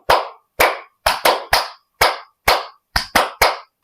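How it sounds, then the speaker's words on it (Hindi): Fast, loud hand claps during a yoga session, struck to press acupressure points, about a dozen sharp separate smacks in quick uneven rhythm, close and alone with no talk. "तालियों के साथ आपका प्रेशर पॉइंट दबाएंगे"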